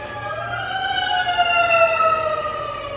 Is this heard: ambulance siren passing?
yes